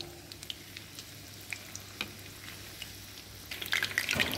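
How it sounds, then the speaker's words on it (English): Corn fritters frying in hot oil over a slow flame, a steady soft sizzle with scattered pops and crackles that grows louder and busier toward the end. "The fritters has to be fried on a slow flame until they turn golden brown."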